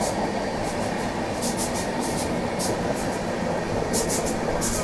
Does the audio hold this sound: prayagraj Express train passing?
yes